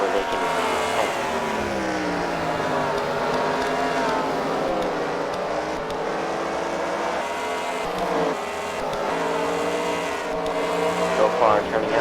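Race car engines droning around a track at a fight-night racing event, with rising and falling revving tones passing by, partly under an announcer's continuous commentary.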